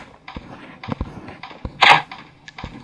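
Sniper video game gunfire: several short, sharp shots spaced irregularly over a couple of seconds, one heavier burst standing out in the middle, with no speech.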